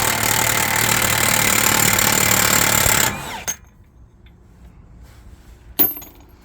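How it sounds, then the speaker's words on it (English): An impact wrench hammers loudly and continuously on the axle nut socket of a 2017 Cadillac XT5 for about three seconds, then stops abruptly, followed by quiet and a single metallic clank. "put your axle nut socket on, spin this axle loose"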